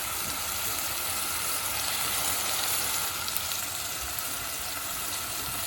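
A steady, continuous sizzle of yogurt and tomatoes frying in a pan as they are stirred, with faint scraping underneath and no voices.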